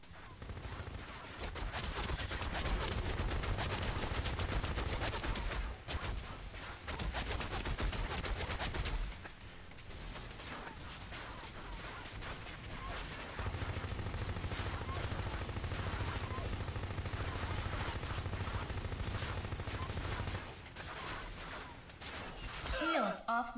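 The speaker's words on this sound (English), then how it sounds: "lay down suppressive fire" Sustained suppressive gunfire from the video game Section 8, with dense bursts of automatic weapons fire rattling loudly through most of the stretch and briefly dropping away twice.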